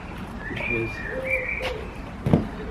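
Pigeons coo and whistle softly near a garden bird-feeding spot, with a brief thump near the end.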